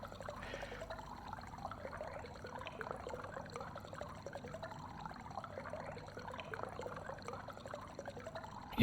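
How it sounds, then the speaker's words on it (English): Water filling a tank in the game Stationeers, a soft continuous trickle and pour running steadily and faintly throughout. "I also don't understand why it's still making the water noise."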